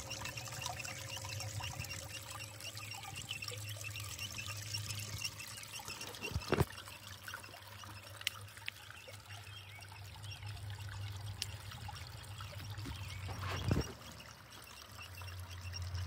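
Water trickling steadily in a small waterfall of a miniature Chinese village, a faint continuous splashing stream with a low hum beneath and a couple of sharp clicks.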